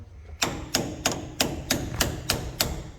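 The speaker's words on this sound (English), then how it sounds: "Now he's gonna take a chisel and a hammer." Eight sharp metallic strikes of a hammer on a chisel against a nut on a Peterbilt 379 truck, evenly spaced about a third of a second apart, close and fairly loud with no talking.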